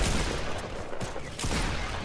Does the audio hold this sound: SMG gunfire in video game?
yes